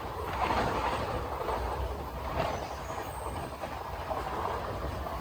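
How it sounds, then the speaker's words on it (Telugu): The Secunderabad Guntur Express passes at high speed with a loud, sustained roar of wheels and rushing air, close by and without letup. "ఈ ట్రైన్ జర్నీ కూడా full on high speed యాక్షన్తో Secunderabad Guntur express అనేది వెళ్ళిపోతుంది"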